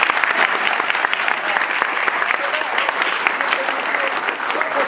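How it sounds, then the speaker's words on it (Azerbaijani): Audience applause at a live talk event, a dense steady wash of many hands clapping at full volume throughout, close and continuous. "Bir də ona görə gəlin yenə bizi alışlayın."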